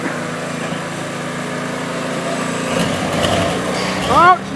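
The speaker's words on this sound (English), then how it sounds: "The blower just did a burnout." Supercharged GMT400 OBS shop truck engine running during a burnout, a loud continuous mechanical drone that builds toward the end, with a voice speaking briefly over it.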